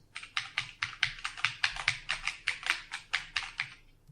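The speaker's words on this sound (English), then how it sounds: "You hear the sound of mechanical keyboards." Rapid, steady typing on a mechanical keyboard, with about twenty sharp clacky keystrokes in an even rhythm. The sound is close and clear, with no voices.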